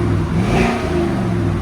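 A 2015 Chevy Suburban with a 5.3L V8, true dual exhaust and Flowmaster 40 Series mufflers revs briefly, a loud, steady, close engine roar with a slight rise in pitch.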